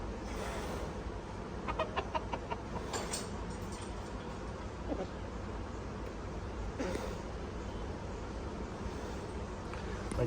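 Roosters and hens shut in a coop give faint, scattered clucks and calls over a low, steady background hum.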